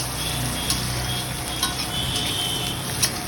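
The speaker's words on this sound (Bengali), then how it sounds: "পেঁয়াজটা প্রায় ভাজা হয়েই এসছে আর একটু ভেজে নেবো" Onions sizzle in a pan while cooking basanti pulao, a steady close crackle and hiss with occasional light clicks of a spoon stirring against the pan.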